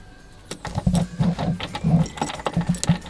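Keys jangle and clink in bursts while an ignition cylinder is swapped on a 1966 Mustang, close metallic rattles in an irregular rhythm with no talking.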